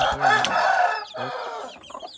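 Native chickens, one with curly feathers, cluck loudly at close range, one long run of calls followed by shorter clucks, with no voices.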